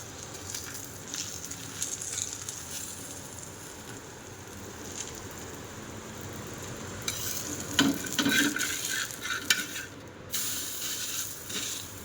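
A dhapata flatbread roasts in oil on a hot pan, with oil dropped into holes in the dough. A continuous crackling sizzle swells louder midway, with occasional scraping and handling noises.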